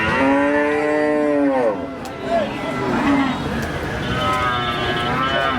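A loud, drawn-out cow moo up close at an outdoor cattle market, followed by a busy crowd murmur with more lowing cattle in the background.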